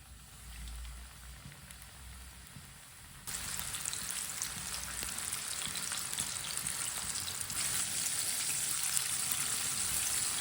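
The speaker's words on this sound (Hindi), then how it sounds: "तीन मिनट के लिए चिकन को फ्राई कर लेते हैं।" Chicken frying in hot ghee over a medium flame: a quiet low hiss at first, then a sudden bright, crackling sizzle as the pieces go in, which continues steadily and grows a little louder partway through.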